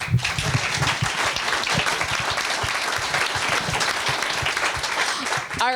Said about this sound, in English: A big round of applause for Victor.